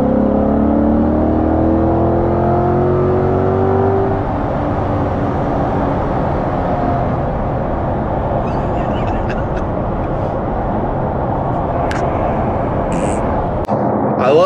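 A 2022 Chevrolet Corvette C8-R Edition drives with a steady, loud engine drone and road roar; the engine climbs in pitch early on, then settles into a constant cruise hum, with a few faint clicks near the end.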